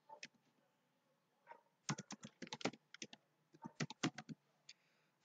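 A number is typed on a computer keyboard while filling in a tractor insurance form, a few scattered keypresses followed by two quick bursts of close, crisp clicks in a quiet room.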